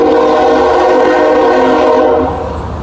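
A train horn blasts loud and close in Sapperton, New Westminster, a sustained chord-like tone for over two seconds over the rumble of the passing train before fading slightly.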